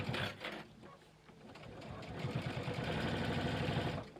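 A sewing machine runs a corner seam on an ID pouch with a close rapid mechanical chatter. It runs briefly, pauses, then picks up into a longer steady stitching run. Faint voices are present.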